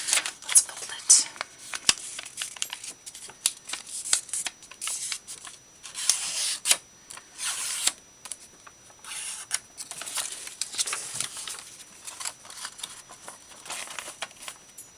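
Scrap paper being folded for a journal craft gives soft, close crinkles, rustles and creases in irregular bursts, with brief quiet gaps between handling sounds.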